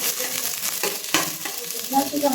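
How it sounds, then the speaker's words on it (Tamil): Onions sautéing in an oil pan until golden brown for a Dindigul Thalappakatti biryani, a dense, steady sizzle with repeated spatula stirs and scrapes, close and fairly loud throughout without speech. "வெங்காயம் நல்லா பொன்னிறமாக வதங்குற வரைக்கும் வதக்கிட்டே இருக்க வேண்டியதான்."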